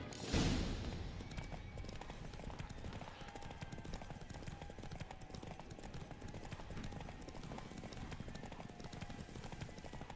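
Horse galloping in The Witcher 3 during a race, a steady rapid clip-clop of hooves that runs loud and continuous throughout, with no talking over it.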